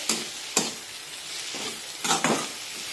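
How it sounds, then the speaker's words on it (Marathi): A spoon scrapes and stirs the spiced mix for leftover-chapati chivda in a pan, giving about five distinct scraping strokes over a soft continuous sizzle, close and fairly quiet. "आता सर्व पुन्हा एकदा व्यवस्थित मिक्स करून घेऊ"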